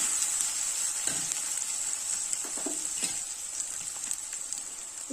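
Ginger garlic paste sizzles steadily in hot oil with onions for a vankaya (brinjal) curry, a continuous close frying hiss broken by a few soft stirring scrapes.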